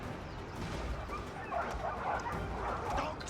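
War dogs in Total War: Arena, yipping, whimpering and barking in short bursts amid battle noise, moderately close, with a voice briefly under them.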